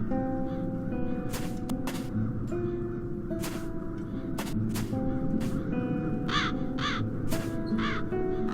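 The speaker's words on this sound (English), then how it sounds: "Now those ghastly crows only need to touch it." Crows cawing in The Dark Eye: Chains of Satinav video game, several harsh caws scattered irregularly over a sustained tonal music bed, fairly loud and near, no voices.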